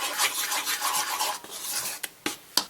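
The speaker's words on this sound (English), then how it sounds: "I'm just going to use a spoon, which is fine. Mix this up really well" A spoon stirring waffle batter in a bowl, making quick rhythmic scraping strokes that end in a few sharp clinks against the side.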